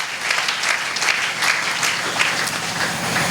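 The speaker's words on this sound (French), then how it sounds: "Que celui qui me suive acclame la parole de Dieu." A church congregation claps and cheers in response to a preacher, a dense, loud, continuous burst of applause that fills the room and carries on without a break.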